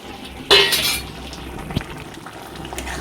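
Dried mango leather and dates tipped into a cooking pan with a bright clatter and clink of utensil against metal, then light scraping and faint bubbling, close by and without speech.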